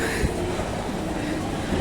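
A provincial passenger train sits at a station platform, giving a steady low rumble and a broad hiss of carriage noise that holds evenly without any clear break.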